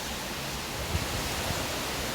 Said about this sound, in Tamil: தெருவில் மழை நிறைய பெய்யுது.